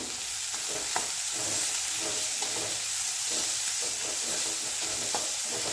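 Coarsely crushed ginger-garlic paste with onion sautés in a pan, giving a loud continuous sizzle broken by repeated stirring scrapes at an irregular rhythm, close by.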